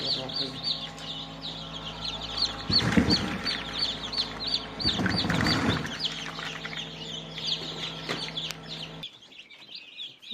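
Many small chicks peep and chirp continuously with hens clucking in a henhouse as the chicks are placed with their mother hens, two louder bursts of rustling handling noise partway through.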